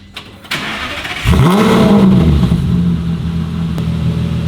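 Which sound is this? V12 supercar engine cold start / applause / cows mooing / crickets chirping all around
V12 supercar engine cold start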